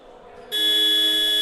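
A game time buzzer at a Baltic League Open match between Baltic Dragons and Tartu Turbulence blares loud and steady, cutting in after a half-second of crowd ambience and holding a sustained electronic tone to the end.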